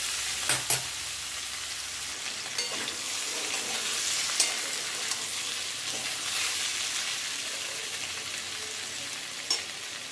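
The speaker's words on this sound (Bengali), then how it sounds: "তো একটু ভাজা হয়ে গেছে তলার দিকটা, উল্টে পাল্টে দিচ্ছি।" Pieces of teasel gourd fry in a pan, giving a steady, close hiss of sizzling oil broken by a few sharp clicks and scrapes as they are turned over; no one speaks.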